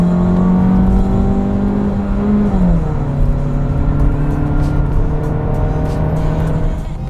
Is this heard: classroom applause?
no